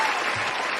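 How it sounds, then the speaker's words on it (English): A short burst of recorded crowd applause from an applause meter, a dense steady wash of clapping and cheering heard only for a moment. "Wait, I gotta give him the applause meter."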